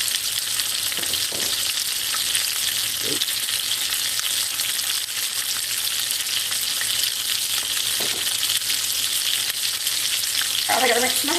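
Onion rings fry in hot oil with a steady, close sizzle throughout, punctuated by a few faint clinks and knocks from utensils and a short rustle near the end; no one speaks.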